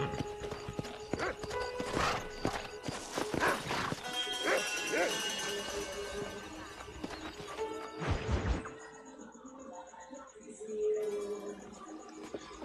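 Horse hooves clip-clopping in the video game Red Dead Redemption, a fast rhythmic patter in the first half that gives way to quieter game ambience, with in-game voices talking over it.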